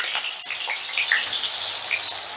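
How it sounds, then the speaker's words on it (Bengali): Potatoes frying in oil left over from frying egg fritters, a steady close hiss and crackle of bubbling oil with a few brighter pops, no voices. "এবারে ওই বড়া ভাজার তেলেই আলুগুলোকেও ভেজে নেব।"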